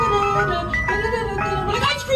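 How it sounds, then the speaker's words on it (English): An ice cream truck plays its tinny melodic jingle, a wavering electronic tune that carries on continuously at a loud, close level. "We're like, ice cream truck!"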